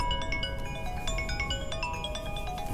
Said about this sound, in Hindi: मैसेज की घंटी, आ गया नंबर।